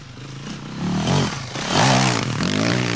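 A Yamaha WR400F four-stroke enduro motorcycle engine revs and pulls through rising and falling throttle, loud and fairly close, with some clattering mechanical noise and no talking.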